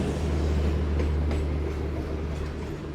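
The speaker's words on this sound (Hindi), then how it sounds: "ये मुझे लग रहा है सक्कर एक्सप्रेस का रेक है ये" A Sukkur Express passenger train rake rumbles past close by, a steady loud low roar of rolling wagons without clear clatter.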